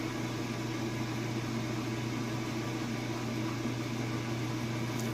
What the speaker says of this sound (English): So that drum is getting up to speed and going really fast.